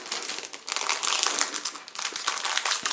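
A cellophane bag holding a fondant-decorated pumpkin cookie is folded over and pressed shut, giving a close, continuous crinkling with sharp, irregular rustles and no voices.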